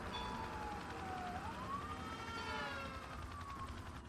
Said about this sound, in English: As you begin to hear vehicles, police sirens behind you.